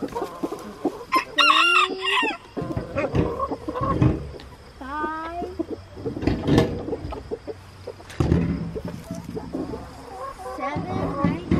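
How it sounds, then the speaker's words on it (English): Broody hens cluck in short, uneven bursts while a rooster crows several times nearby, the calls rising over a busy farmyard background with scattered clucks between the crows. "Broody chickens, broody chickens."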